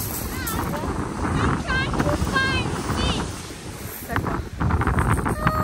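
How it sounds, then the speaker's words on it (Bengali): Strong wind at Brighton Beach buffets the microphone in a constant low roar, with surf and birdlike chirps faintly above; voices talk briefly underneath. "আর এখানে প্রচন্ড বাতাস"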